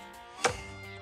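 Sharp knife slicing a thick layer of fat off a pastrami brisket, a single short crisp cut standing out against a quiet kitchen background.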